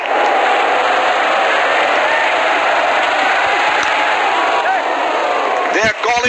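Crowd noise at a cricket stadium during a day-night Test swells as a loud, dense, continuous roar of cheering and whooping, with a voice speaking over it.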